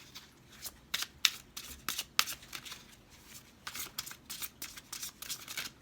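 Tarot cards are shuffled repeatedly in quick riffling bursts, close and crisp, with short pauses between each pass and no voices.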